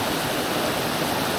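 Kephart Prong, a small mountain stream in the Great Smoky Mountains, rushes in a steady, dense wash of water noise, constant and fairly close, with no voices over it.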